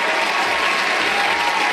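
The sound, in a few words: applause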